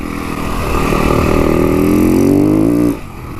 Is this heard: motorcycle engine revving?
yes